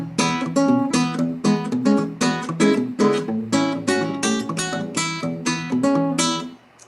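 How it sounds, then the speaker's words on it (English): Acoustic guitar played with Travis picking, the thumb alternating steady bass notes while the fingers pick a lead line on top, bright and close in an even, rolling rhythm with no talking. "he's using a style called Travis picking, also called alternating bass"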